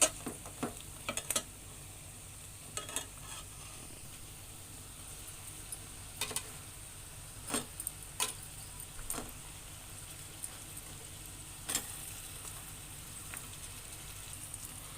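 Turmeric, chili powder and pond fish are stirred in a frying pan for a tamarind fish curry, with faint soft sizzling and a series of sharp spatula scrapes and taps spread irregularly across the quiet clip.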